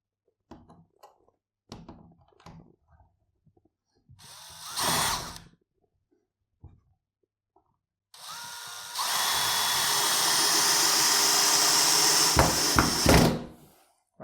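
A power drill drives screws into the wood of a workbench under construction, with a short whirring burst and then a long, loud sustained run that tapers into a few final spins, amid scattered bumps and knocks of handling.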